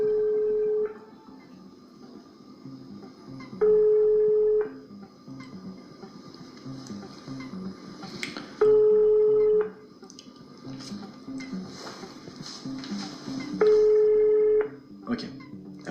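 A phone dialing the number 666, with four evenly spaced long ringback tones about every five seconds, someone speaking French softly in between and underneath.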